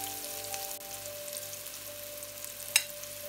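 Vegetables frying in a little oil in a pan, a soft continuous sizzle with faint crackle, steady and close, with one brief clink near the end and no talking.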